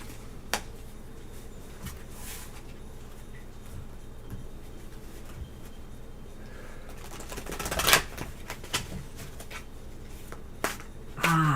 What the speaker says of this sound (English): I want it to get a good shuffle here.